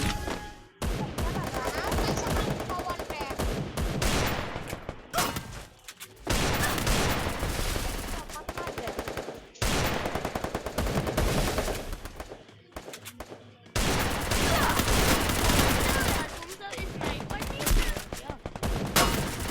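Rapid sniper rifle gunfire on a video game training ground, dense bursts of loud shots coming in several long volleys separated by short pauses.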